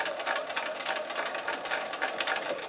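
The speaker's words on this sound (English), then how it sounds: "Let your sewing machine do the work for you." A sewing machine stitches quilt fabric for a flag-pattern sampler of scalene and isosceles triangles, giving a steady, close, rapid mechanical whirring with a slight pulsing rhythm throughout and no talking.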